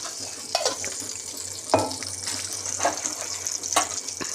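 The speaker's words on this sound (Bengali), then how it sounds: "ঘিয়ে এই এপিট ওপিট করে একটু করে এই ভেজে নেব।" A sandwich fries in ghee in a pan, giving a moderate sizzle punctuated by several soft clacks and scrapes as it is turned.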